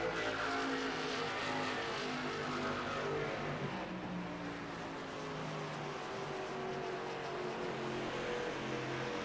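Race cars in a video game roar around Kentucky Motor Speedway during a 100-lap K&N Series event, a dense continuous engine drone with shifting pitch and no voices.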